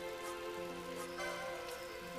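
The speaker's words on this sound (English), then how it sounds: "It's raining here, which I feel like is important." Rain falling in the video game Final Fantasy XII, a steady even patter that holds at a constant level throughout with no talking, though a tonal musical layer sits beneath it.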